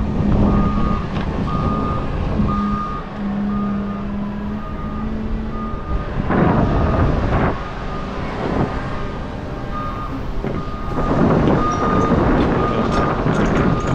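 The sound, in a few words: truck arriving, reversing with beeps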